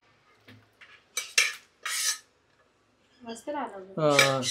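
Cooked mutton being moved from one pot to another with metal utensils, a few scattered clinks and scrapes of metal on cookware, close by, with someone talking over parts of it.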